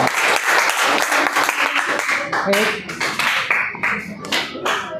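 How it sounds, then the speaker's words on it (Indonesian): Classroom of students applauding a group presentation, loud lively clapping filling the room with rapid overlapping hand strikes, fading toward the end as voices come in. "Tepuk tangan atas presentasinya tadi."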